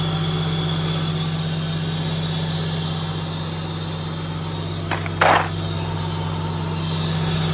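A car engine idles steadily while warming up after a transmission cooler install: a constant low hum with a faint clunk near the end, no voices.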